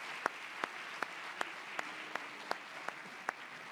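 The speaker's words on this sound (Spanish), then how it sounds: "Un aplauso para Gabriel, para David, para José Manuel y para Eduardo." Scattered, sparse claps, about ten distinct sharp hits at uneven intervals over a soft background hum, as a small audience at a Spanish tourism sustainability panel applauds the speakers.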